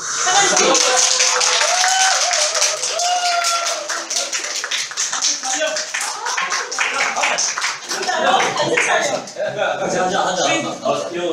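A church congregation at Daegu Logos Church claps steadily in the sanctuary, a dense patter of many hands mixed with voices talking and calling out over it.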